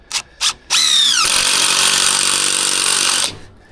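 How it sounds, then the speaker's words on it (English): A power driver sinks a screw at an angle through a plate in framing, a steady high whine lasting about two and a half seconds after a couple of short blips, loud and close with no talk. "I'm gonna take a screw and I'm gonna tow it in on an angle and suck it all the way down"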